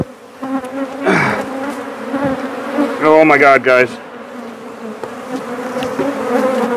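Killer bees buzzing loudly and close during a bee removal, a dense swarming drone with sharp rising whines as individual bees pass near, while a person briefly exclaims over the noise.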